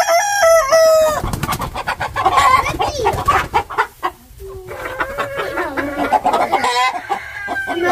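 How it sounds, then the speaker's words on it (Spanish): Chickens on a ranch: a rooster crows loudly up close while hens cluck and squawk around it, with bursts of flapping and scuffling in between. "Aquí estamos con los pollos, miren, amigos."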